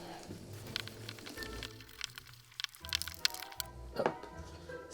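Savoury batter of eggs, milk and olive oil being stirred again in a bowl, a run of irregular wet clicks and soft knocks from utensil against bowl, close and fairly quiet.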